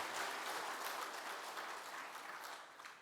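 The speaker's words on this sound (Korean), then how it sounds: "큰 박수로 우리 축복하겠습니다." A Sunday worship congregation claps in church in a short burst of steady, even applause, moderately distant and without talk over it.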